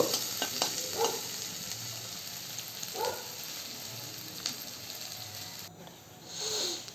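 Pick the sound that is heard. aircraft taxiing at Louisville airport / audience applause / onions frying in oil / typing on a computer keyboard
onions frying in oil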